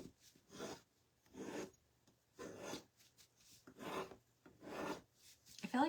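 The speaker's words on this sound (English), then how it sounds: "All I'm doing is just scraping away some of this" Paint is scraped off a craft piece, with five or six separate rasping strokes at a slow, even rhythm, close but fairly quiet with short pauses between them.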